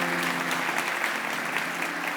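A church congregation applauds Jesus, a sustained, even burst of many people clapping together, with a faint low hum from the sound system underneath.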